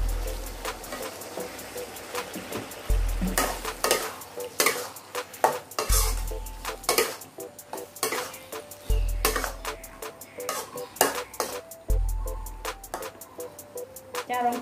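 Repeated spatula strokes scrape and clatter against a pan as pork liver is stir-fried, a light sizzle running underneath, close up with regular stirring rhythm.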